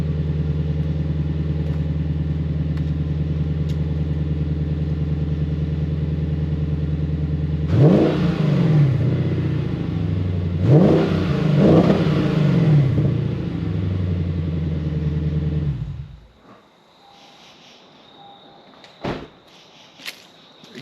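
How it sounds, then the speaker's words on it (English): A Ford Mustang engine idles with a steady low rumble, then gets two short light revs before shutting off, leaving faint clicks. "Let's give it a couple light revs."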